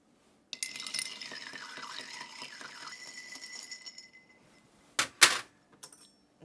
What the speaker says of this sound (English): I'm going to ice and stir these one at a time so they don't get over diluted.